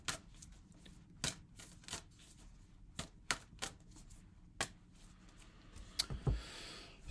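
Tarot cards are shuffled in irregular bursts of crisp flicking and riffling, close and fairly quiet, with short pauses between the shuffles.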